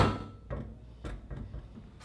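Several soft clunks and clicks of a SECURAM SafeLogic smart safe lock releasing and the safe door opening, spaced about half a second apart, close and quiet.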